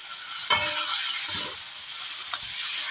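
Chicken sizzles steadily in a pan with onion and garlic, a constant close frying hiss broken by a few stirring scrapes.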